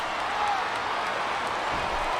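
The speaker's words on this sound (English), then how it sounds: "Now the fans start to cheer for him." Virtual wrestling arena crowd from WWE SmackDown vs. Raw 2008 during a Royal Rumble match, cheering and applauding in a steady dense roar that fills the whole stretch at a constant moderate level.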